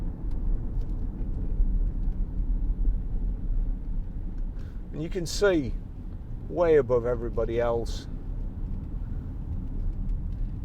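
Low, steady rumble of a 2014 Range Rover Vogue 3.0 V6 diesel engine underneath as the car drives, with someone talking briefly over it.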